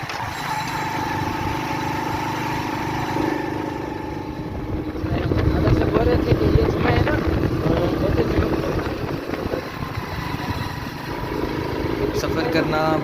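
A United 70 motorcycle engine runs steadily throughout, a continuous loud hum that swells a little toward the middle, heard from the rider's position outdoors.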